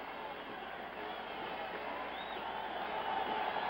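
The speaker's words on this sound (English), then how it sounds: "The fans are giving him a standing ovation" A stadium crowd in Oakland gives Joe Namath a standing ovation during a 1972 Jets at Raiders football game. The sustained, muffled roar of cheering and clapping comes over an old broadcast and swells slightly toward the end.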